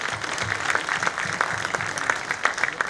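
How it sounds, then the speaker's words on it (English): An audience at a leadership conference gives steady, moderately distant applause, many hands clapping evenly for the full few seconds. "Huge round of applause,"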